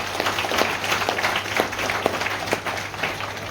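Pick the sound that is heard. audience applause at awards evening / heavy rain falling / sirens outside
audience applause at awards evening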